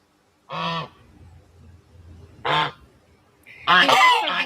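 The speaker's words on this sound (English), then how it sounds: "he is an African goose. He is very loud," An African goose honks loudly three times. The first two are single harsh honks spaced about two seconds apart, and the third is a longer, noisier blast. Each one stands alone with quiet pauses between, close to the listener.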